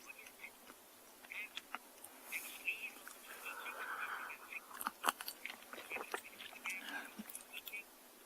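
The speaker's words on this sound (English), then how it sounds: "the chewing sounds and the cracking of those roots" An elephant on a sunrise safari at Tswalu chewing and cracking roots, with irregular crunches and snaps, some sharp and close, over a quiet background with insects buzzing.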